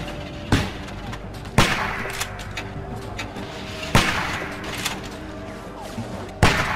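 Gunshots in The Walking Dead video game, a few sharp, loud bangs spaced irregularly over a low rumbling ambience, with no talking.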